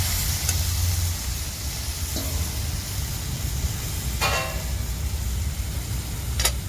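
Karadu, a wild leafy vegetable, is stirred as it cooks in a pan. A continuous sizzle is broken by a few sharp scrapes and clinks from the stirring spoon, with no talking.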